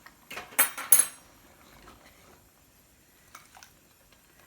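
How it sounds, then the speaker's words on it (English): Cornstarch slurry stirred into creamed corn in a pot, a spoon clinking and scraping briefly and close at first, then quiet with a couple of faint taps later. "I'm going to stir in the slurry. This is a cornstarch slurry."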